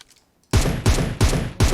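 Four loud, heavy gunshot blasts at a steady rhythm from a PUBG Mobile match, each with a sharp attack and a short tail, coming right after a quiet start.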